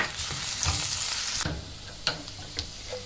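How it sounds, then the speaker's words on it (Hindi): Spices for a tadka sizzle and crackle in hot ghee, with steady frying hiss and a few sharp pops and stirring clinks near the microphone. "मैंने उसी में घी डाल के गरम कर दिया, और मैं इसमें ये डाल के इसको हल्का सा भूनूंगी"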